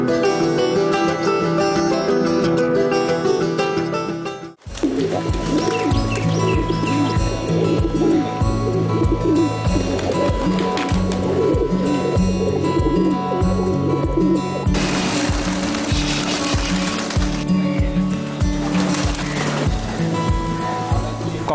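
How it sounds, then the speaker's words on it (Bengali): Many pigeons coo and call together at a busy pigeon market in Moulvibazar, Bangladesh, a dense steady chorus of low burbling coos that continues throughout with other birds chirping. "কবুতরের বাকবাকুম ডাকেও আছে কেমন জাদুময়ী মুগ্ধতা।"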